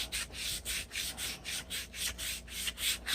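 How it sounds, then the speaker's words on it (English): Linseed oil is rubbed by hand onto a restored hatchet, a steady back-and-forth swishing rub repeating about three times a second, close and soft with no talk. "I want to rub some linseed on it to protect it."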